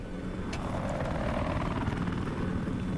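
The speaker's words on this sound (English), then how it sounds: "Jihad trying to keep his chopper up." A helicopter in a video game drones with a continuous dense rotor roar, loud and steady throughout.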